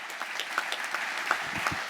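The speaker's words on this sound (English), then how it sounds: "another round of applause for all these inductees tonight" Applause from a banquet crowd honoring inductees at an athletic hall of fame dinner, a steady wash of many hands clapping at moderate distance for two seconds with a few sharper individual claps standing out.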